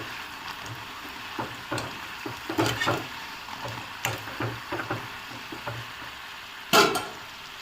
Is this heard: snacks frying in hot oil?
yes